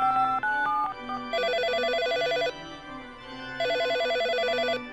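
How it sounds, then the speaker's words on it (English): A phone rings in the video game Always Sometimes Monsters, with two long electronic trilling ring bursts separated by a short pause and preceded by a few brief melodic beeps. The rings are loud and clear with no talk over them. "Oh, looks like it's already ringing!"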